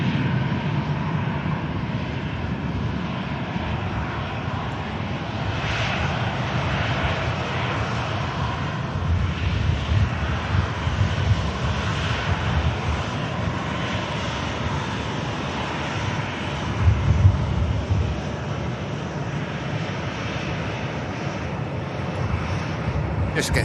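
An Airbus A330 jet airliner departs Manchester Airport, its engines a steady, moderately distant roar that holds throughout with some wind noise, while someone talks now and then.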